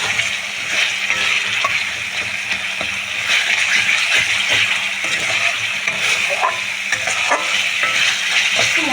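Tomato masala is sautéed in a pan, giving a loud, dense hiss and crackle that runs without a break, with soft stirring scrapes underneath.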